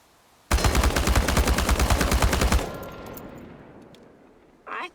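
Rapid automatic gunfire at a shooting range in the video game Chernobylite: one sustained burst of about two seconds, loud and close, then a fading echo, with a brief clatter near the end.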